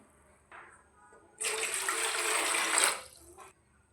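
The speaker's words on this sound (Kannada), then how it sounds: "ಇದಕ್ಕೆ ಎರಡು ಎರಡೂವರೆ ಗ್ಲಾಸ್ನಷ್ಟು ನೀರು ಹಾಕೋತೀನಿ" Water from a glass poured into a cooking pot for sago kheer, a steady splashing pour lasting about two seconds, close by, with quieter kitchen handling before and after.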